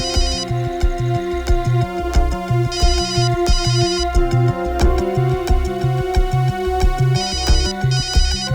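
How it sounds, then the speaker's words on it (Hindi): A mobile phone rings with a loud, looping electronic melody, pulsing repeatedly in a steady rhythm and heard alone at close range. "पूर्वी का फोन?"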